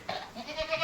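Goats bleat in a short, close call on a farm pen during a dry spell, a single wavering cry standing alone without talk.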